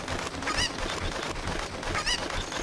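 Chickens in Zelda Ocarina of Time give two brief cackling calls over a busy in-game background.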